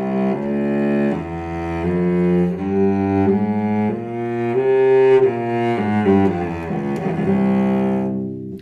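A sustained melodic instrumental line in the klezmer Freygish mode, where the seventh degree may be major or minor, moves through steady connected notes over a held lower harmony, fading out at the end.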